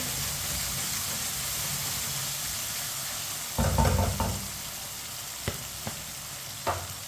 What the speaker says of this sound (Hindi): टमाटर को 2 मिनट के लिए मैंने पका लिया है चम्मच चलाते हुए।